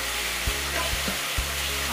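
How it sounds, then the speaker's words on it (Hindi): Onion with ginger and garlic paste sizzling in a pan, a steady loud frying hiss broken by soft thumps as it is stirred, with no talking. "आप देख सकते हैं फिर से हम भून रहे हैं।"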